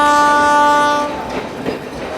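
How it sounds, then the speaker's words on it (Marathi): A train leaving a station, a loud sustained horn blast for about a second fading into the rumble and clatter of moving rail cars, close and dominant. "तुमची ट्रेन जात आहे."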